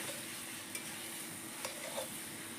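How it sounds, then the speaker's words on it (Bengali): Chicken pieces fry in a pan with potatoes for a Bengali chicken curry, a steady quiet sizzle broken by a few light scrapes as the meat is stirred, with no voices. "তো মাংসটাকে এভাবে প্রথমে ভেজে নেবেন"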